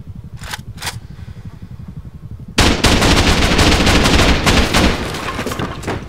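Gunfire in the online survival game Rust during a raid: a few sharp shots early, then a dense, loud burst of rapid automatic fire and explosions that gradually eases, with no talking.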